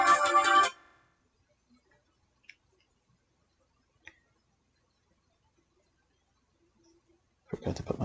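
A phone ringtone plays in short bursts at the start and end, loud and near, with quiet gaps and faint clicks in between.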